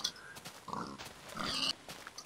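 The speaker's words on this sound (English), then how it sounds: "Oh, wow, there are a lot of pigs." Pigs in the Tekkit modpack for Minecraft oink and grunt in a quick series of short snorts, fairly faint and close together, with no one talking over them.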